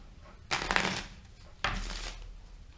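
A deck of cards is shuffled for a magic trick, two quick riffling bursts, each about half a second long and fairly close, separated by a short pause.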